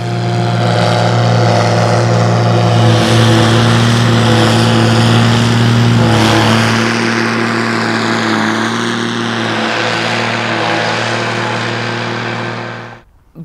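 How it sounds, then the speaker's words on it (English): A tractor of nearly 300 horsepower drives a forage harvester cutting a second cut of grass, a loud, close, steady droning engine with a strong low hum and whining overtones that holds for over twelve seconds before cutting off abruptly. "for a tractor that's almost pushing out 300 horses, either the harvester needs a wee bit of fettling, or the harvester's power hungry"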